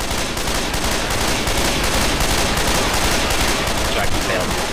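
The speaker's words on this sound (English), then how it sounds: "Oh, hey, machine gun." Rapid machine gun gunfire in the video game Left 4 Dead 2, a dense, continuous burst of shots running loud through the whole stretch with little letup, game noise and faint voices mixed underneath.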